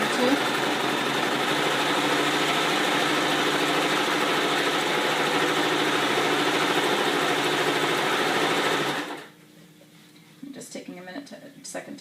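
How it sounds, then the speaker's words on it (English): A sewing machine sews a pillowcase made into a backpack, giving a long, steady, loud motor hum that stops abruptly near the end and is followed by faint handling noises. "I'll just go ahead and sew, making sure that you keep the sides together"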